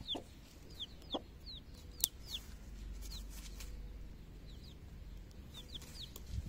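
A black Brahma hen clucking in soft, scattered calls against a quiet background, with one sharper, louder call near the middle.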